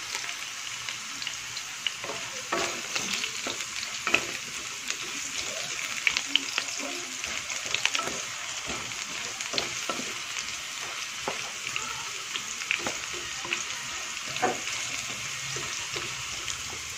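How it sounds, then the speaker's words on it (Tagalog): Carrots and potatoes frying in a pan at a steady, close sizzle that runs unbroken, with occasional light clicks of stirring and no talking. "I-prito muna itong carrots at saka patatas."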